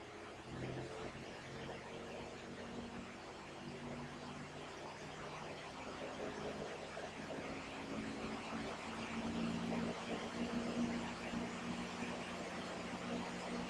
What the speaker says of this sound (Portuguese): Agora eu vou começar a aumentar a rotação desse motor.